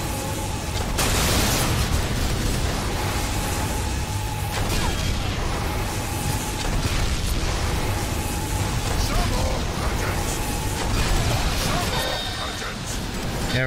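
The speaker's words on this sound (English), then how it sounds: "I'm gonna be shooting at these guys that are shooting at me." Darksiders gunfire and explosions form a dense, loud, continuous barrage of blasts and booms with sharp bursts scattered throughout, while someone talks over the chaos.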